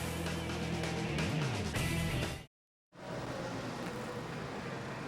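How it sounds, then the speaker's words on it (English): NASCAR Nationwide Series cars on track at Homestead-Miami Speedway during practice, a steady loud roar of engines with a brief dropout midway before the roar resumes. "Cars on track for NASCAR Nationwide Series qualifying"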